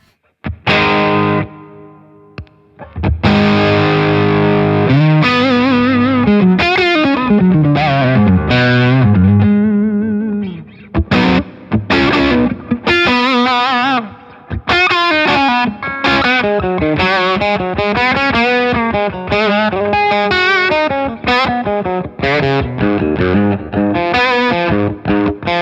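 Electric guitar played straight through a Beetronics Octahive fuzz pedal with all controls at halfway and no octave engaged, giving loud, saturated fuzz riffs with sustained bends, a short pause early, then busy phrases and chords to the end.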